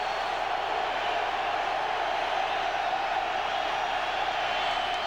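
A football stadium crowd of 74,000 on its feet at a 1995 Green Bay at Tampa Bay game makes a steady distant roar, an even wash of noise with no distinct cheers standing out.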